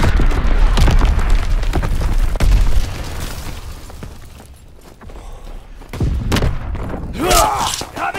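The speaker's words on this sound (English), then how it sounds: "Sending mortar rounds." Mortar rounds burst in a WW2 battle game set in the Ardennes forest, giving a string of deep booms and thuds amid ongoing combat noise, heaviest at the start and again near the end.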